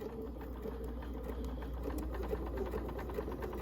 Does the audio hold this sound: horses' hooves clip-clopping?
no